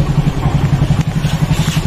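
A motorcycle engine runs close by with a rapid, even low thumping pulse and some clatter, loud and steady throughout.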